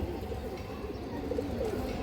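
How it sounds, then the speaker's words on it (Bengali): A black female Kaldam Indian high-flyer pigeon coos in low, steady murmurs close by, the soft calls rolling continuously through the whole stretch with no voices. "খুবই সুন্দর একটা কালদম মাদি কৌতার"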